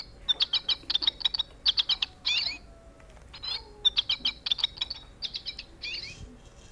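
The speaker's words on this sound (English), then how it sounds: "It was a bird." Close, bright bird chirping in quick rhythmic bursts of short repeated tweets, broken by brief trills and pauses, with no other sounds.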